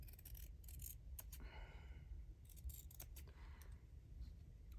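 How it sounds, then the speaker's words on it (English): Scissors snipping steadily through fabric while fussy cutting a butterfly motif for a stitchery journal piece, a run of close, soft crisp cuts with brief pauses, no talking. "So let's just do the fussy cutting."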